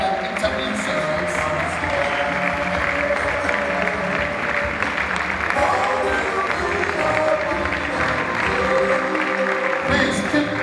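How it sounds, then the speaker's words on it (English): Audience applause after a speaker series event at a university, sustained clapping from a crowd filling the full stretch with steady density, a brief dip near the end. "Please keep the applause ringing."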